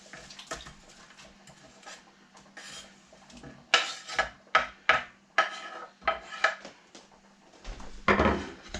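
Onions go into a pot of pot roast, then a spoon scrapes and stirs against the metal in a series of loud, uneven rasping strokes, with softer kitchen clatter before.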